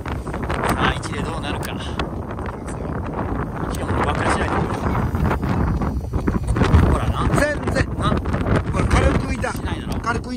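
Strong wind buffets the microphone during a baitcasting reel fishing outing, a steady roaring rush lasting throughout with gusts, while people talk underneath.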